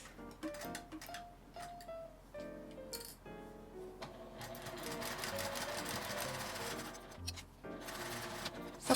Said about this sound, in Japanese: ファスナーを越えたらまたミシンで縫います。